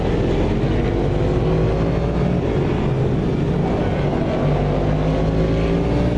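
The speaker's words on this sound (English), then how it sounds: "My mic's just too quiet when the engines are going." Race car engines roar continuously in Automobilista 2 during a European Le Mans endurance race at Spa-Francorchamps, a loud, steady drone with rising and falling harmonics and no talk over it.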